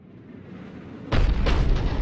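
In the video game Mass Effect 3, a Cerberus cannon fires: a low rumble builds, then a sudden loud booming blast erupts and keeps roaring heavily to the end.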